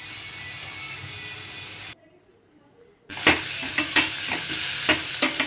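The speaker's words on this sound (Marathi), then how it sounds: "कांदा पात टाकून त्याच्यामध्ये परतून घ्यायचं आहे" Tomato and spring onion fry in oil, giving an even sizzle. After a short gap of near silence, a utensil scrapes and clatters against the pan in rapid stirring strokes over the hiss.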